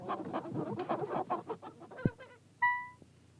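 Chickens cluck in a quick series of short, close calls, followed by a sharp tap and one drawn-out higher squawk that fades.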